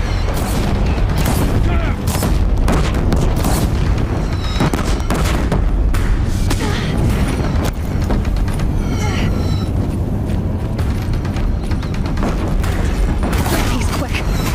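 Deathbringer war machines fire across a bridge in Horizon Zero Dawn, a loud, continuous barrage of heavy booming blasts and rattling mechanical bursts.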